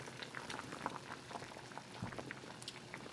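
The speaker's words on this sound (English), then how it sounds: "go ahead and put our tomatillos inside so they can start cooking" Tomatillos boil in a pot of water for green salsa verde, a steady dense bubbling and popping that runs throughout at close range, with no talk over it.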